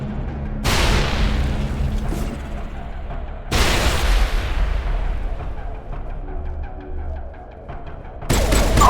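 Grenade blasts and gunfire in the video game Mass Effect, two heavy booming explosions with decaying rumble, scattered shots in between and a third burst starting at the end.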